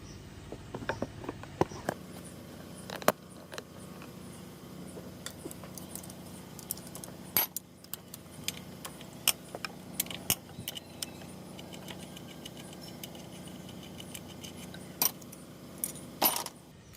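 Spanner work on air filter base bolts of a Mitsubishi Canter truck engine gives quiet scattered metallic clinks and ratchety clicks, close and faint, with no talking.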